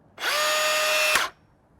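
A battery-powered chainsaw revs with a smooth, high electric whine for about a second, then stops abruptly as the blade brake engages, leaving near silence.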